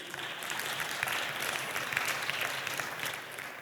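A congregation applauds in praise during a church service about holy anointing oil, a steady, moderately distant wash of many hands clapping that holds evenly for a few seconds with no talk.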